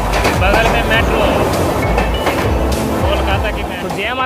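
Kolkata metro train running alongside, a loud rattling clatter of wheels and carriages with squeals and rhythmic knocks, close by, with speech mixed in.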